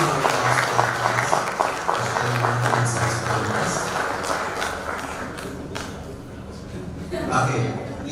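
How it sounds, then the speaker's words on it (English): Applause for a class at a launch event, a crowd clapping with scattered chuckles and voices mixed in, moderately loud and fading slightly before rising again toward the end. "Huge round of applause for the class."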